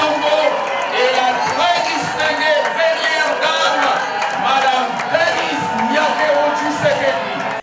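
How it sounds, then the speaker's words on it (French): A large crowd in a hall breaks into sustained, dense applause and cheering for the entrance of the presidential couple, a steady roar of clapping with voices mixed in throughout. "C'est un déferlement d'applaudissements qui accompagne l'entrée du couple présidentiel"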